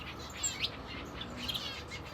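Diamond finches and shaft tail finches chirping in an outdoor aviary, with several faint, high, short calls scattered over a quiet background and no voices.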